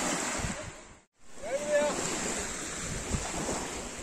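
Waves and steady wind at Enez Altınkum beach in Edirne, Turkey, at sunset, a continuous surf wash with strong wind buffeting the microphone and a brief dropout near the start.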